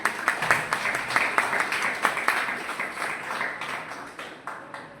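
A church congregation claps together in praise of the Lord, a run of repeated, fairly even group claps with a lively rhythm, fading somewhat toward the end.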